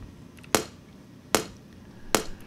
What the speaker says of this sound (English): I just have this tiny little click sample in there